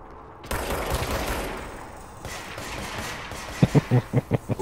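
Gunfire in the video game Control, a sustained burst of weapon noise followed by a rapid series of six or seven sharp, evenly spaced shots near the end, moderately loud.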